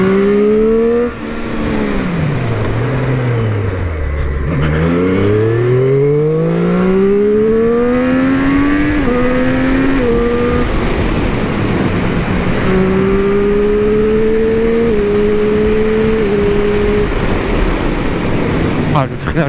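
A Triumph Street Triple 765 RS motorcycle accelerates hard through the gears with a quickshifter, its engine note climbing and dropping at each shift, loud and close under a rider talking over wind noise.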